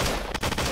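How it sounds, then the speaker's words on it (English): A short, dense burst of rapid gunfire in a multiplayer shooter video game, loud and close, with several overlapping shots packed into under a second. "Everyone's shooting."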